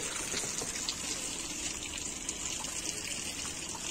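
Water runs steadily from a hostel washing tap, a thin continuous rushing stream that holds at an even level throughout with no talking.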